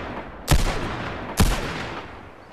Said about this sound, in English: I have not shot this gun in a while.